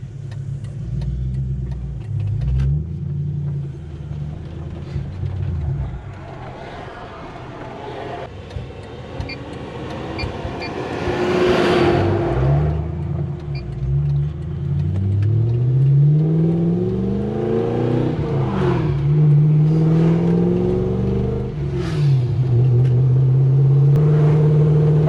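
A Mazda B2000 ute with a 1UZ engine conversion drives along with a misfire, the engine note rising and falling through several revving pulls and gear changes, uneven and close up.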